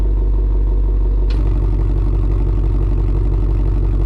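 The exhaust of a Dodge Challenger Hellcat or Scat Pack rumbles steadily at idle close by, a low, throbbing drone that shifts slightly after a brief hiss.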